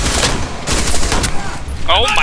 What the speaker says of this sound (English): I just hear flashbangs everywhere